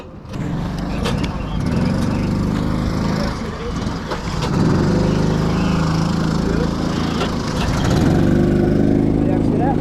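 A go-kart engine runs and revs in a rough, loud, low chatter that swells and surges, with scattered knocks and voices talking over it.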